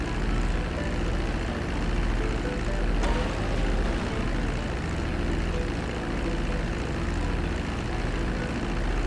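A steady, continuous drone from an airplane engine in Grand Theft Auto V holds level throughout, a broad propeller rumble with no breaks and no talking.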